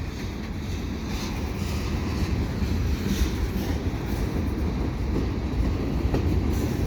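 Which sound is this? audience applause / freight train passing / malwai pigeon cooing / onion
freight train passing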